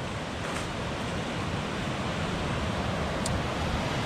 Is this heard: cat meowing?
no